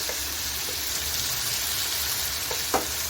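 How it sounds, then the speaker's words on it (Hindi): Crushed eggplant with green chillies frying in ghee, a steady close sizzle with faint stirring scrapes throughout and no talking. "तो ये डाल देंगे ताकि इनकी भी घी में अच्छी तरह से भुनाई जो है वो हो जाए"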